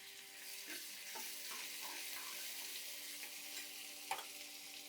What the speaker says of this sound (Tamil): வெங்காயத்தை லைட்டாக வதக்கிக்கிட்டேன்